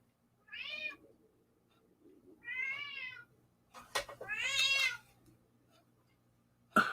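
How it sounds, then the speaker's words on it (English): An older cat meows loudly at a door, wanting to be let in, with three drawn-out, rising cries spaced a second or two apart, the last one longest and strongest, heard close and alone against a quiet indoor background. "my old cat Spooky's at the door. He's wanting in. I'm sure you guys can probably hear him. He's loud"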